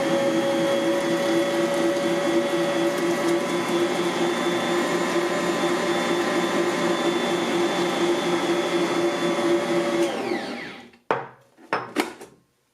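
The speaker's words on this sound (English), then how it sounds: "I'm only going to use speed 1 to add the eggs because this is such a powerful mixer." A powerful Bosch Universal Plus stand mixer runs at speed 1 mixing cookie dough with eggs, a steady loud motor hum with harmonics that winds down near the end, followed by a few clattering knocks.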